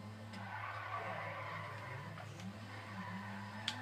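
A Jaguar XKR four-door saloon drifts in a video game, tires squealing in a steady, faint wash over a low engine drone, with a brief sharp click near the end.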